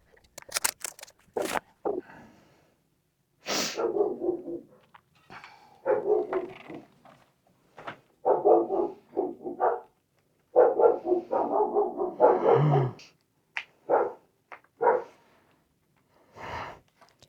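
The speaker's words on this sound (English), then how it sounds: "If I shut that door, there will be great barking." Several dogs bark and yap in repeated bursts, some sharp single barks and some clustered runs, fairly close, with short quiet gaps between.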